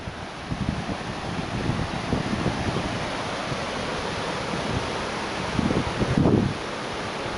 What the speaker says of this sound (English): It's more waterfall over there and more cascade here.